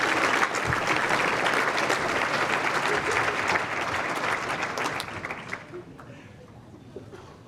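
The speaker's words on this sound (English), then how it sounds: "Another round of applause for our seniors and our high-achieving students." A banquet hall crowd gives a long, dense round of applause for graduating seniors and high-achieving students at a scholarship benefit. It stays loud and steady, then thins out and fades near the end.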